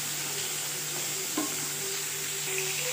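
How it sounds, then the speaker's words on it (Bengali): Milk and grated carrot thicken in a pan while being stirred, giving a soft, steady low sizzle with one brief utensil knock partway through. "এরকম আমি এখনও দু তিন মিনিট আবারও এটাকে নেড়ে চেড়ে ভালো করে ঘন করে নেব।"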